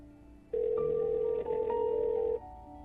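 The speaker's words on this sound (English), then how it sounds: "I heard the sound of the line ringing and I brought the phone to my ear." A telephone line ringing in the earpiece, heard as one steady electronic ring tone held for about two seconds, loud and close, with no voices.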